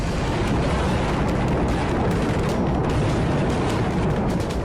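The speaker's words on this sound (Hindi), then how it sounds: "ग्राउंड ऑपरेशन के लिए रास्ता बनाने के लिए हैवी आर्टिलरी फायरिंग इजरायली सेना कर रही है" Heavy Israeli artillery fire in southern Lebanon: a loud, unbroken roar of dense rumbling noise with faint bursts scattered through it, and no voices.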